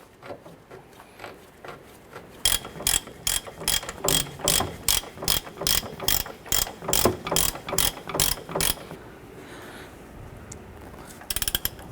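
A ratchet tightening an oil pan bolt on a 2008-2013 Honda Accord, a close run of sharp, evenly spaced clicking strokes lasting several seconds, then a pause and a couple of final clicks.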